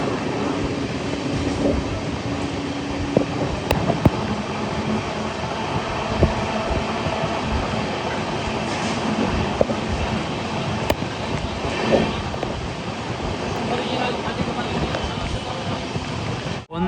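Saraighat Express train pulling into Naihati railway station on the Kolkata to Guwahati route, a steady, loud rumble of rolling wagons with clattering wheels and occasional sharp clicks throughout, with no talk.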